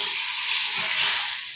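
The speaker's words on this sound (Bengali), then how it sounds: "আমি গেটটা খুলতে গেছিলাম আর বেগুন ভাজাটা বসিয়ে দিয়ে গেছি" Eggplant slices fry in a pan in a home kitchen, a loud, steady, close sizzle hissing without pause, with no speech.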